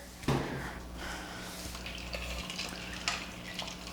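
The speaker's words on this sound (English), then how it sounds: "Stir it up" A spoon stirs charro beans in an Instant Pot, giving soft wet scraping and sloshing with a sharp clink near the start, fairly quiet and close.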